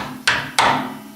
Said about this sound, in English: hammer this one a little bit